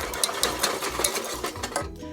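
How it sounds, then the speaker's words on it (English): An electric hand mixer beats egg yolks into a Spam soufflé mixture, giving a steady whirring drone with rhythmic clatters of the beaters against the bowl, close and continuous throughout. "Beat it in until you get all 4 egg yolks in, one at a time."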